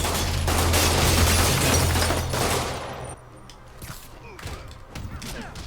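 Thugs fire guns at Spider-Man in a video game: a loud, dense burst of rapid gunfire and impacts for about three seconds, then scattered quieter shots and thuds.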